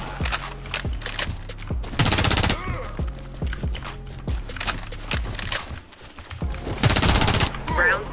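SAR 109T rifle fire in the shooter Warface: loud rapid automatic bursts rattling repeatedly, close up, with brief pauses between volleys and game effects mixed in.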